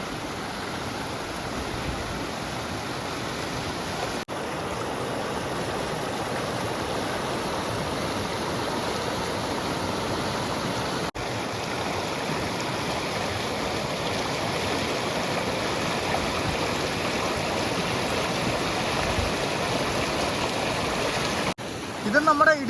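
A small river near Irattayar in Idukki, swollen with rainwater, rushing steadily in a dense, broadband wash of flowing water that stays constant and fairly loud throughout, with voices faintly mixed in.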